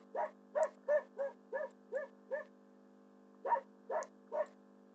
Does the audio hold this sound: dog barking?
yes